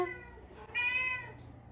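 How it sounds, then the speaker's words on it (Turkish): A house cat lets out a short, close meow, rising briefly into a clear tonal cry before fading, with no one talking. "Kedi ses çıkarıyor."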